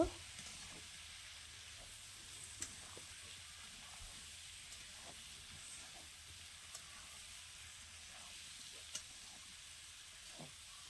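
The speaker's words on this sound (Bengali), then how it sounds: "এবার সবগুলো দিয়ে আমি আরো অল্প সময় কষে নেব" Mango pickle mixture is stir-fried in a pan, giving a faint, steady sizzle with a few soft scrapes of stirring spaced across the stretch, low and even throughout.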